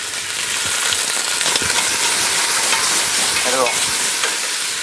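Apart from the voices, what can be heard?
chicken meat sautéing in a pan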